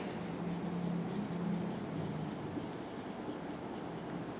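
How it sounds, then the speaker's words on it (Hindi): A teacher writes on a board during a chemistry lesson. The steady, close scratching runs continuously with slight rhythmic strokes and no talk over it. "मैं लिखती हूँ जी फॉरवर्ड डायरेक्शन"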